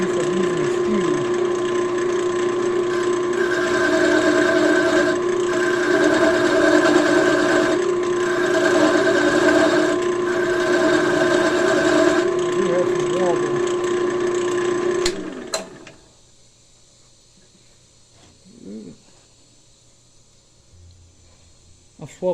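A wood lathe spins a pen blank on a mandrel while a turning tool shears the wood, a steady loud motor hum with pulsing mechanical texture for about fifteen seconds before it cuts off to near silence.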